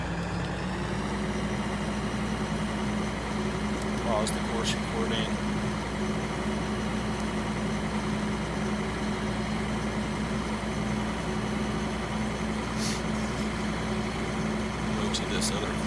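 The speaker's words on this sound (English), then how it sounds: "This is a very fast tractor" A very fast tractor in a farming video game runs with a steady engine drone throughout, constant and fairly loud, with a few brief clicks and a voice speaking over it.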